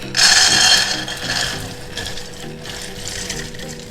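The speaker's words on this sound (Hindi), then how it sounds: "अब ये दाल को हम इस कुकर में डाल देंगे।" Soaked whole urad dal tumbles into a pressure cooker for dal makhani with a dense, gritty rattling patter. It is loudest at the start, then settles into a softer, steady clatter, with no talking.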